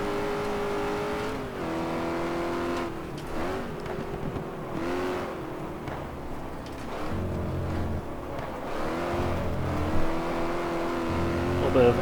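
A race car engine in the GT Legends racing game revs hard through the gears, with rising and falling pitch as it downshifts under braking, loud and continuous throughout.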